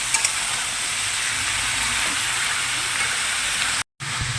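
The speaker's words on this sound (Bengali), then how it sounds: "সবজিগুলো সব দিয়ে দিয়েছি এবার একটু নাড়াচাড়া করে ঢাকা দিয়ে দেবো" Winter vegetables with cauliflower stalks frying and being stirred in a pan for a Bengali vegetarian chorchori, giving a steady close hiss and sizzle that cuts off briefly near the end.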